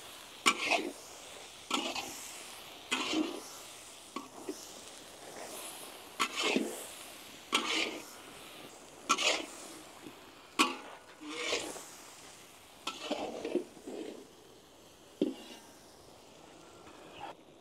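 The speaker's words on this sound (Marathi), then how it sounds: "आपण आता फ्राय केलेले वांगे घालून घेऊ. वांगे मसाल्यांमध्ये परतून घेऊ व्यवस्थित." Fried eggplant is sautéed in spice masala for a South Indian brinjal curry, with a regular series of spatula strokes scraping the pan in short, fairly loud bursts over a faint background sizzle.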